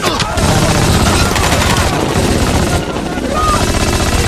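Rapid bursts of gunfire ring out as a German patrol opens fire on people in a boat in a film scene, a dense, loud fusillade of overlapping shots running continuously throughout.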